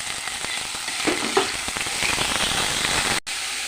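Chopped cabbage tipped into a pan of frying onion, ginger and chili, giving a steady close sizzle with stirring scrapes and a brief cutoff near the end.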